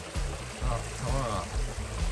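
A mountain stream on the Mount Takao No. 6 trail rushes and trickles steadily nearby, a continuous watery wash with people talking over it.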